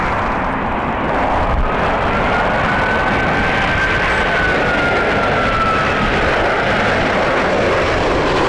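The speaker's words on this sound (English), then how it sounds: "So we have our first A350 from Virgin inbound." A Virgin Atlantic Airbus A350 jet inbound to Heathrow in strong crosswinds, its steady broadband engine roar filling the air with a faint rising whine, loud and continuous throughout with no talking.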